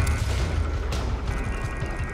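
Deep, rumbling explosion from the video game Metal Gear Solid V, a loud, sustained low boom with crackling debris that fills the whole clip and carries no talk.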